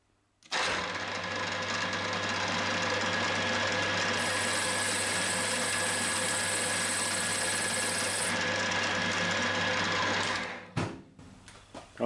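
Drill boring clearance holes through metal parts in a workshop, a steady high whine that runs for about ten seconds without a break, then spins down and stops.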